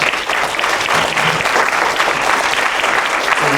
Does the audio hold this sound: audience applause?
yes